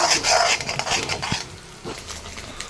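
Scrambled egg stirred in a pan while cooking fried rice, a spatula scraping and clinking against the metal with a soft sizzle, louder in the first second and then quieter scrapes.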